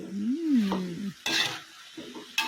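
Pork stir-fried with mild chilies and onion in a wok, loud bursts of sizzling and spatula scraping between quieter moments, close by, with a tonal sliding hum early on.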